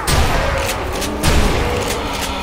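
A loud burst of rapid bomb explosions and blasts in a zombie shooter game, crackling and booming over a couple of seconds, dense and close.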